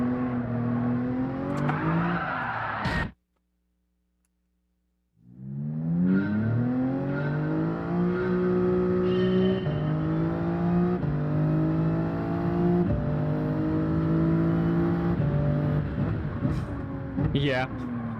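A Toyota Supra race car engine in Gran Turismo 7 at Mount Panorama revs and climbs through gears in a loud, steady whine, cutting out briefly for a couple of seconds, with someone talking over it.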